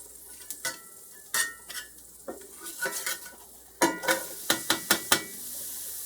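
Onions fry in a pan for ground beef stroganoff, a soft sizzle under a run of close utensil scrapes and clacks against the pan, ending in a quick series of sharp taps, with no voices.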